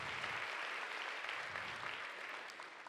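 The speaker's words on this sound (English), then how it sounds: "if you are nice enough to clap for them" Audience applause fills a conference room during a talk on building new products at a scaleup, a dense, steady wash of many hands clapping for about three seconds with no voices over it.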